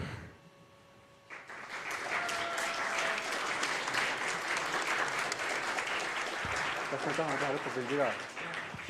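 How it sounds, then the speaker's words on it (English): An audience at a game jam's presentation event breaks into loud, sustained applause after a brief quiet moment, with cheering voices mixed into the clapping. "Big round of applause for all of you."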